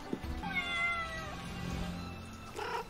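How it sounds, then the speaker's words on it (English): A single drawn-out cat meow sounds clearly, rising and wavering for about a second over a quiet background, with a brief faint noise near the end. "Pet the cat."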